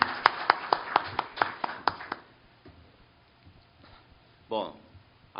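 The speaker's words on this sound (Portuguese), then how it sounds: "Aplausos de boas-vindas ao nosso conferencista" A few people clap in welcome for a lecturer at an academy talk, about ten sharp, close, evenly spaced claps that stop after two seconds, followed by quiet room noise and a brief voice.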